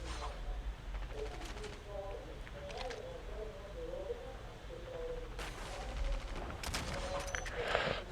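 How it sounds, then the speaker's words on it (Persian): Rapid gunfire bursts from a multiplayer video game, short crackling volleys scattered through the clip and heavier near the end, under ongoing conversation between players. "چرا الکی داری تیر بزنی اسکو؟"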